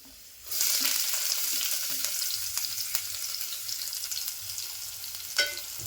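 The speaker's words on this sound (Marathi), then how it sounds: "कांदा पण थोडासा तांबूस करून घेते" Onion and garlic fried in a pan for a Malvani clam and prawn dish, a sudden loud sizzle that starts abruptly and holds steady with small crackles and a stirring clatter near the end.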